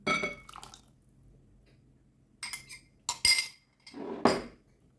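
A spoon stirs sour milk with yeast and melted butter in a bowl, giving a few separate bursts of clinking and wet scraping against the bowl with quiet gaps in between and no talk.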